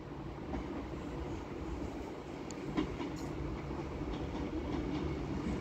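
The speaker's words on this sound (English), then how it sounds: "And now coming in behind me is a Class 156 from Manchester Piccadilly to Chester." Class 156 diesel train from Manchester Piccadilly to Chester arriving at Stockport station on the West Coast Main Line, a low, fairly distant steady rumble of engine and wheels with faint clicks, no talk.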